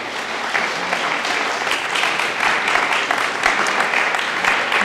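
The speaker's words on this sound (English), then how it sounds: "Big applause." Steady applause from an audience at a pitch event in a theatre hall, dense and sustained clapping at an even level throughout, with faint talk underneath.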